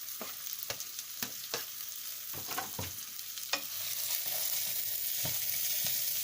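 Finely chopped vegetables sweat in a pan for a red lentil soup, giving a steady soft sizzle with occasional sharp clicks of a utensil stirring, growing slightly louder toward the end.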